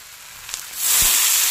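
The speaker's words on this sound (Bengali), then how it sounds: "জল দিলাম।" Water poured into a pan of sizzling vegetable curry with potato, paneer, okra and beans, bringing a sudden loud, steady hiss and sizzle that swells and holds after a quieter frying sound.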